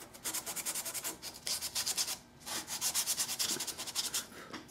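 Sandpaper rubs over a carved wood door corner on a bombe secretary in quick, rhythmic back-and-forth strokes, close and fairly soft, with a brief pause partway through.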